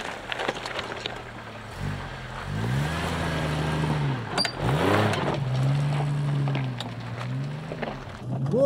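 A Jeep Cherokee 4x4 works through an off-road competition obstacle with climbs, descents and tight turns, its engine droning and rising and falling in pitch as it revs, with faint background noise.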